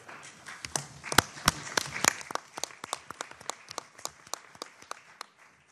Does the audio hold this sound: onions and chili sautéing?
no